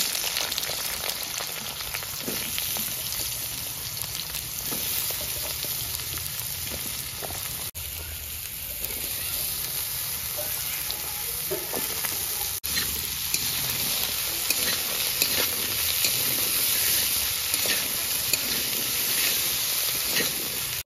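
Potato, eggplant and radish frying together in a pan of oil, a steady close sizzle and crackle running throughout with scattered pops and no talk.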